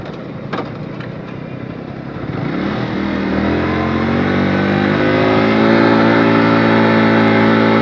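Bikers' motorcycles pass on a hilly road at Kaptai, engines building from a distant hum into a loud, rising roar as the machines draw close and accelerate.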